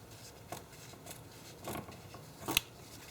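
Scissors cut across a stamped fabric journal card in a few quiet, separate snips spaced about a second apart, close and alone.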